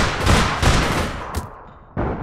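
Loud, rapid gunfire from the online shooter APB Reloaded, with dense bursts that fade, a brief pause, then another sharp burst.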